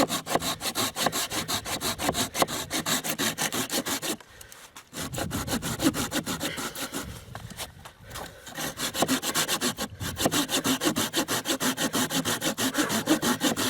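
A folding hand saw, a Bahco Laplander or Silky Gomboy 210, cuts through hard wood in fast, steady rasping back-and-forth strokes, loud and close, pausing twice briefly before resuming.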